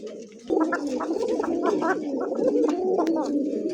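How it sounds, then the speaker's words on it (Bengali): Pair of male pigeons cooing close by in a loft, their throaty, rolling coos repeating in quick bursts that overlap one another over a few seconds. "দুইটাই ককা কবুতর দেখেন, দুইটাই ডাকবো"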